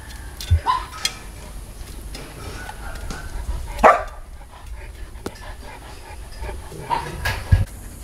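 Several dogs from a group of around forty-eight bark in scattered bursts nearby, with panting and soft whimpers in between, under a low background murmur.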